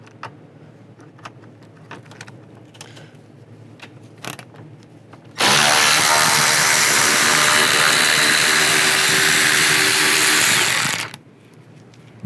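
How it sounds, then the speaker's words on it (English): A power tool runs continuously for about six seconds, loud and close, while removing T20 screws from the headlight area of a 2010-2016 Buick LaCrosse, with faint handling noises before and after. "Take all these screws out. You're going to use a T20 socket."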